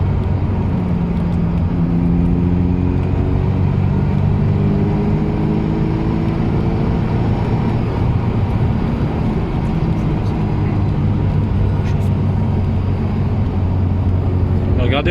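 Ferrari 348 TS engine with a stainless steel exhaust: a loud, sustained low engine drone heard from inside the car while driving, with pitch shifts as it pulls, under steady talking.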